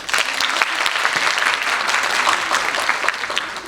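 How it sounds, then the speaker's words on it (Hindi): An audience applauds at a national theatre festival celebrating Hindi theatre in West Bengal. Dense, loud, continuous clapping fills the hall for several seconds with no talk over it. "तो आप सबों के लिए हम सब ताली बजा रहे हैं।"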